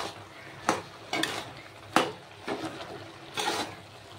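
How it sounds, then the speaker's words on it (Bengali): Fish head curry with bottle gourd simmering in a pot, lid lifted and contents stirred: several scraping, clattering stirring strokes at irregular intervals over a soft bubbling background, close and moderately loud. "ঢাকা তুলে দিয়ে একটু নেড়ে চেড়ে দেব।"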